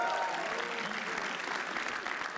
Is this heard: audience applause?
yes